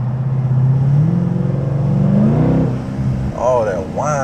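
A 2025 Dodge Durango Hellcat with a 710 hp engine accelerating hard, a loud close engine roar and whine climbing steadily in pitch, then easing off as a voice speaks over it.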